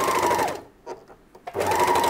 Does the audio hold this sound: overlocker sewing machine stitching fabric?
yes